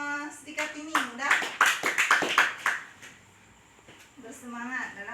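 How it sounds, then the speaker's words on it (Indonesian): A short burst of clapping from a small group in a training session, a couple of seconds of quick claps between spoken voices before and after. "Tepuk tangan untuk Ibu Srikatini"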